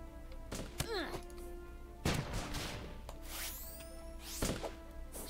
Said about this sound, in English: So the bombs, they take a little while to go off, but they are relatively powerful from what I know.